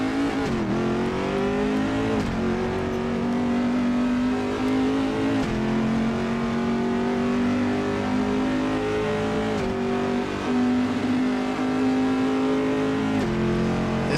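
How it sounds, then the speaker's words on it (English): Corvette mod car engine in Assetto Corsa sim racing, revving steadily and pulling away with heavy clutch slip, a loud continuous engine tone with small pitch shifts throughout, no talk. "Now to get this thing started, it needs lots of clutch slip to get this thing going smoothly."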